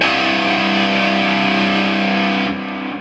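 Sustained distorted electric guitar notes, left to ring without palm muting, ring out loudly and steadily, then the sound thins slightly near the end.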